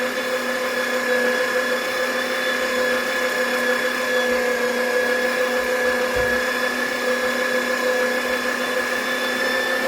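Electric meat grinder grinding fresh chicken, a steady motor hum with a high tonal whine that holds unchanged and close throughout.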